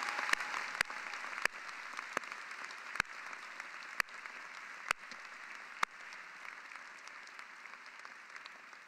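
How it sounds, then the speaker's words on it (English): Steady applause from a commencement audience at Brooklyn Law School, fairly distant and even, with a few sharper nearby claps standing out over the continuous patter. "Will you join me in giving a round of applause to her for all she has accomplished?"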